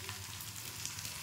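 Whole green chillies frying in a pan, a dense, even sizzle that holds steady at close range for the full short stretch, with no voices.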